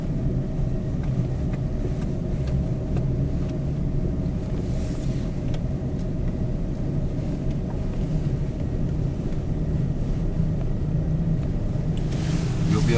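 A four-wheel-drive vehicle crawls slowly downhill in low gear, giving a steady, even engine and drivetrain rumble that holds throughout at moderate loudness, with no clear speech.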